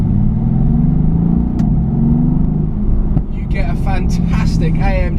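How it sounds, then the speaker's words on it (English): Mercedes-AMG GT S bi-turbo V8 exhaust holds a steady, deep rumble close by, with a voice talking over it throughout. "You get a fantastic AMG exhaust note"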